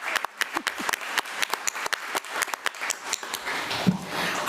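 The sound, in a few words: audience applause for students at a board meeting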